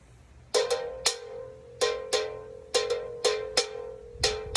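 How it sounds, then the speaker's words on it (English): The sharp end of a pencil taps a half-full Red Bull can resting on a laptop on a wooden table, giving eight bright metallic pings, each ringing briefly with a clear tone, close and alone. "This is the sound of a pencil on a Red Bull can that's half full on a laptop"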